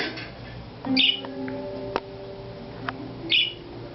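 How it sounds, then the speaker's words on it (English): Pet budgerigars (parakeets) give a few short, bright chirps, two clearer bursts spaced a couple of seconds apart over faint background tones. "They're funny little birds. I love my little parakeets."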